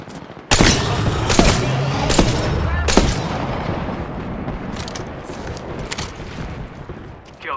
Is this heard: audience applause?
no